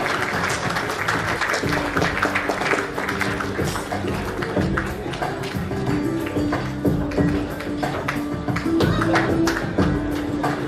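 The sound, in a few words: audience applause at award ceremony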